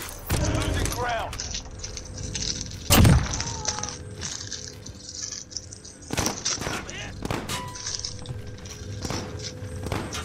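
Gunfire in Call of Duty Warzone on Rebirth Island, scattered sharp shots and one heavy close blast amid dense game noise, with talk throughout.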